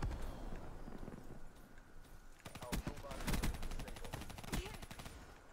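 Rapid bursts of automatic gunfire crackle in a Call of Duty Black Ops III match, starting after a quieter stretch with rhythmic shots clustered in two or three volleys, fairly faint overall.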